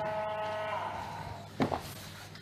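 Dairy cows on a small French farm moo in a long, loud, drawn-out call, followed by a couple of short thumps and rustles nearby.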